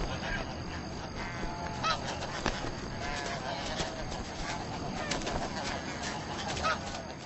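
A large flock of snow geese honking continuously at a distance over harvested farm fields, a dense overlapping chorus of calls.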